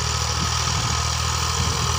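Massey Ferguson MF 2602020 tractor with a potato planting machine hitched behind, its diesel engine running with a steady, low, throbbing drone close by and no voices.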